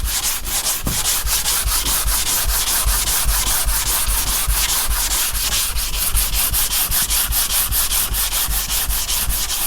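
Steady, continuous block sanding with 80-grit paper on the sunroof panel of a 1987 Chevy Caprice, a close, rhythmic back-and-forth scratching that keeps an even loudness throughout with no voices.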